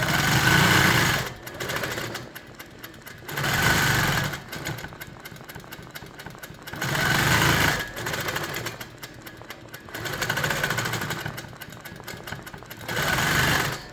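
A longarm quilting machine stitches straight lines along quilt borders, its whirring motor running in repeated bursts of a couple of seconds each, with short quieter pauses between passes, loud and close.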